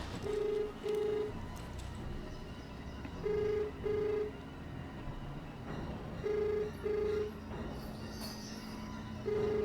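A telephone rings in paired tones, repeating at regular intervals over a low background hum; no one speaks.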